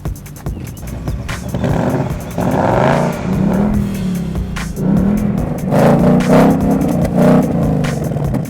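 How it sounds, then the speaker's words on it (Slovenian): A 2019 Ford Mustang GT fastback with a 5.0 V8 and automatic transmission revs loudly up close. Its engine roar climbs and falls in repeated surges over a deep rumble. "bomo preizkusili, kako glasen je dejansko lahko ta avto"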